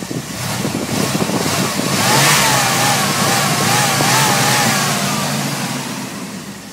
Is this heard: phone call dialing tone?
no